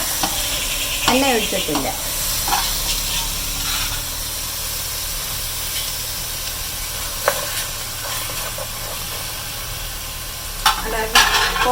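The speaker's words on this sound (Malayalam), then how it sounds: "ഇനി നമുക്ക് ഒന്ന് ഇളക്കി പാത്രത്തിലോട്ടിടാം." Chicken with turmeric and salt in a pan without oil gets stirred, with scraping strokes and a soft sizzle and hiss between them, while a voice speaks briefly over it.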